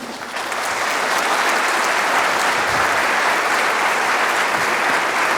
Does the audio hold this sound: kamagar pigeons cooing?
no